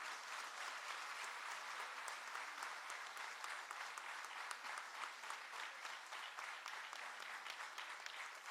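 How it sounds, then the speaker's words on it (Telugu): A large crowd at a mass singing event in Visakhapatnam claps in a continuous, even wash of applause that sounds somewhat distant and soft, with no voices standing out. "గట్టి కొట్టచ్చు చప్పట్లు."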